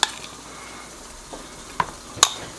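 Potatoes being stirred in melted garlic butter in a pan, giving soft sizzling with a few sharp utensil clinks against the cookware, heard close with no talking.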